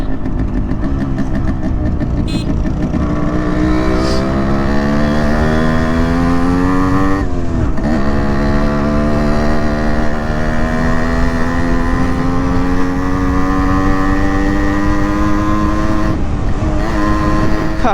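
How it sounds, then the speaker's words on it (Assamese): A modified Yamaha RX100 motorcycle engine runs steadily and close for the whole stretch, its pitch rising and falling in smooth sweeps, loud and alone with no voices. "RX100ৰ চাউণ্ড যেতিয়া আপুনি কাণেদি শুনা পায়"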